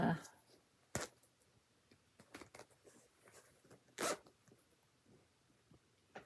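Two quick zipper pulls, sharp rasping bursts close by, separated by a few seconds of quiet handling and soft rustling.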